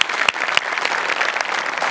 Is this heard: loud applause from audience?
yes